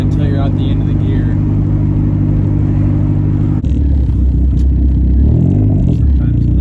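A big-turbo Dodge SRT4 accelerates hard through a gear, its engine droning loud and steady from inside the cabin, and it keeps pulling after a brief shift partway through.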